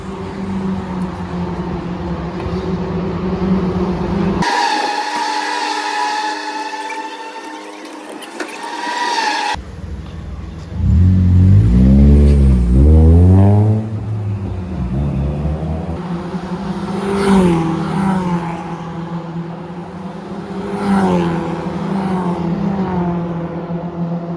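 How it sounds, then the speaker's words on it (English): Race cars on practice laps pass near a pit lane: engines roar by in loud, rising and falling sweeps, with one car's pitch climbing sharply as it accelerates away, over a constant background rumble. "So today is just the practice laps going on."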